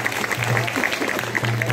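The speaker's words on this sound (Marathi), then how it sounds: "एक टाळ्या वाजून त्यांचं स्वागत करायचं आपल्याला" A crowd at a birthday welcome event for a guest breaks into applause, a dense patter of clapping that holds steady through the moment, with a low electrical hum and no speech.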